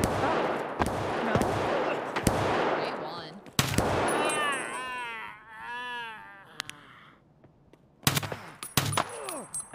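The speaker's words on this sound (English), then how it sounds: "is this guy shooting at us?" Gunfire in the video game Escape From Tarkov: several sharp shots burst out in a loose rhythm, some close and loud and some more distant, and a few further shots come near the end.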